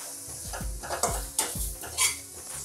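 Spices and pomegranate seeds dry-roasting in a pan: close, rhythmic scraping and stirring strokes with light clinks of a utensil against metal over a soft sizzle, several quick passes and no speech.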